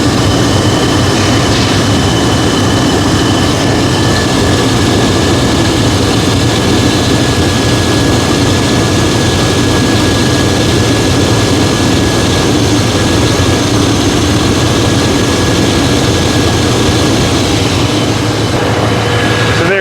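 A car engine idles steadily after a coolant temperature sensor repair, a continuous, even rumble with a faint whine running through the full stretch, close and fairly loud, with no voices over it.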